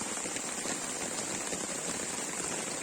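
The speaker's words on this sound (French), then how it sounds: "On est en train de prendre un petit déluge." Heavy downpour on a desert island, heard as a dense, steady hiss of rain close by, unbroken for the whole stretch with no voices.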